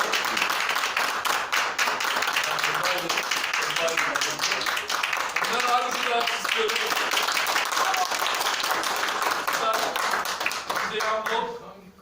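An audience at a business event claps loudly and continuously for about eleven seconds, dense close applause with a few voices and shouts mixed in, tapering off at the end.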